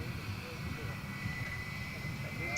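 A Jetstar airliner in Pride rainbow livery passes at Gold Coast Airport, its steady engine roar with a droning whine running throughout under talk.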